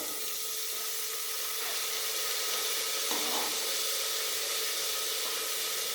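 Mustard seeds, onion and tomato hiss in a hot pan, a steady broadband sizzle close by with a brief brighter flare partway through and no talking.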